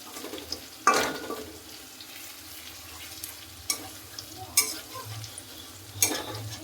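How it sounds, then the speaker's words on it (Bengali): Garlic paste for a mutton curry browns in hot oil under a soft, constant sizzle, broken by four sharp spoon-scraping stirs against the pan, close by, with no one speaking. "রসুন বাটা একটু ব্রাউন কালার করে ভেজে নেওয়া হবে।"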